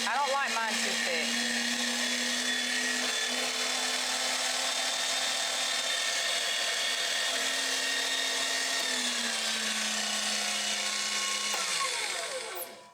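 An electric grinder whirs steadily through cooked chicken for chicken mull, a loud continuous motor whine with slight pitch shifts that winds down at the end.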